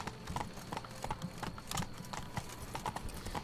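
In The Witcher 3, the horse Roach trots with a steady, rhythmic clip-clop of hooves, clear and close throughout, with a faint ambient bed underneath.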